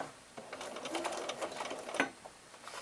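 Sewing machine stitching a flange quilt binding along the quilt edge with a quarter-inch foot, a faint, fast whirring run of stitches with small irregular bursts.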